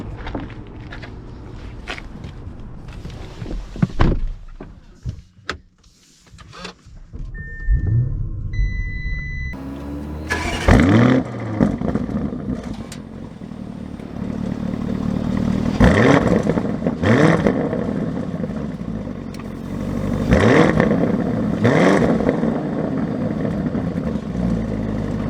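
A 2022 Lamborghini Urus fires up with a sharp burst, then its engine rumbles and surges in repeated acceleration swells as the SUV pulls away, preceded by quieter footsteps and clatter.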